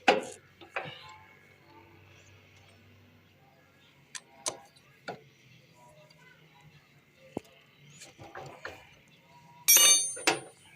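Tightening a nut on a bike engine beside a freshly fitted gear seal, heard as scattered sharp metallic clinks and taps of tool on metal, sparse and close, with a brighter clatter near the end.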